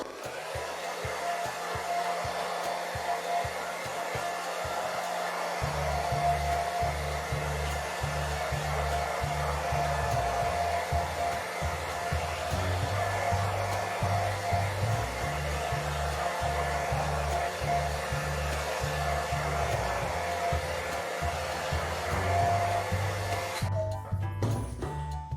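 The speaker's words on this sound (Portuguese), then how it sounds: "Então eu vou passar rapidinho o secador" A hair dryer blows on fresh paint on a handmade craft document box, a loud, steady whooshing drone with a low pulsing undertone that runs continuously for about twenty-five seconds before cutting off near the end.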